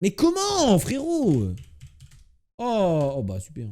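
Rapid typing on a computer keyboard clatters under lively French talk from a streamer, the quick clicks mostly masked by the voice and briefly exposed in a short pause.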